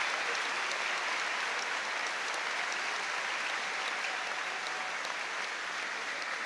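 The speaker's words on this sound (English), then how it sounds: "You can see the applause, not only with the Celtic support, but the Dortmund players, the Celtic players on the pitch as well" Stadium applause from fans and players before a Celtic versus Borussia Dortmund legends football match, a dense, even wash of distant clapping that holds steady throughout without pause.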